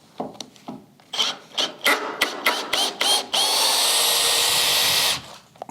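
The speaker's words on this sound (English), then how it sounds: "I need to get these bolts out, or screws." A power drill backs bolts or screws out of a multiplex board in an old house restoration, starting with short, stuttering bursts and ending in a long, steady whir of the motor up close, with no talking.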